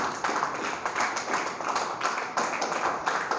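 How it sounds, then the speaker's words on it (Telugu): Children in a Bible class clap hard and fast together, a dense, steady patter of many hands close by that carries on without pause. "ఒకసారి గట్టిగా క్లాప్స్ కొట్టండి"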